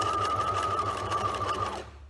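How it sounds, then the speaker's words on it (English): Sewing machine stitching a fabric scrunchie seam with the presser foot edge as guide, a steady close motor whir with rapid needle rhythm running for nearly two seconds before stopping. "I use the edge of my presser foot as a guide for this seam"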